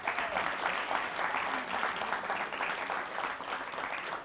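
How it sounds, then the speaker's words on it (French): An audience applauds a contestant from Valence at a quiz-style event, sustained dense clapping that stays even and fairly distant throughout, with no talk over it. "Alors, une ovation pour lui, s'il vous plaît."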